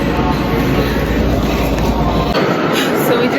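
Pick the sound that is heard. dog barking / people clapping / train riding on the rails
train riding on the rails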